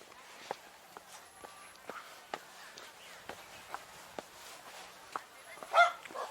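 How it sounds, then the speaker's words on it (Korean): A dog outdoors near a field of rapeseed flowers gives several short, sharp barks at a distance, spaced irregularly among light footsteps, with one louder bark near the end. "어 여기도 멍멍이가 있네요"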